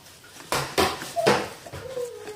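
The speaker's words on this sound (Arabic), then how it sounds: "هقلب بقى الخليط ده كويس قوي" Batter of flour and orange cake mix being stirred in a bowl, with several distinct scraping and clanking strokes of a utensil against the dish, close by with no talking.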